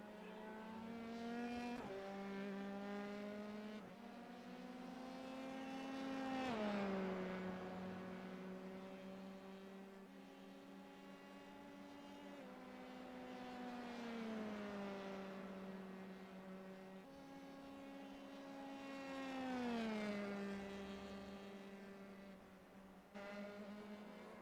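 Race cars in an SCCA pro race roar past with rising and falling engine whines, several surging passes and downshifts, steady and fairly distant.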